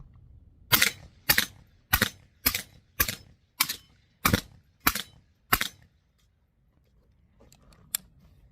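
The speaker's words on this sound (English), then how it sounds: "And like I said, this is the Dead Air Sandman S, suppressed," Suppressed PSA AKP pistol fitted with a Dead Air Sandman S suppressor, firing eight sharp, evenly spaced shots at roughly half-second intervals, followed by quiet with faint clinks.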